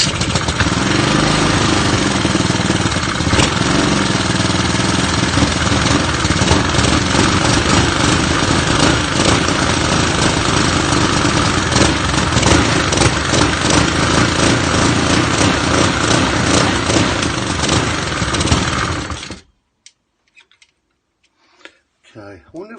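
A cheap Honda GVC135 small engine runs loud and close at high speed with a fast, even ticking beat for about twenty seconds, then cuts off abruptly, leaving near silence with a few faint clicks.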